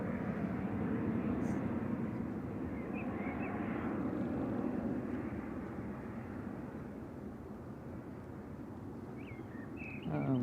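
KLM Embraer 190 jet taking off from Manchester Airport for Amsterdam, a steady engine rumble that slowly fades into the distance, moderately loud, with faint voices near the end.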